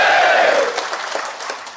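A crowd claps loudly at a political rally in a brief, dense burst of applause, with a shrill whistle-like tone at the start that fades as the clapping thins.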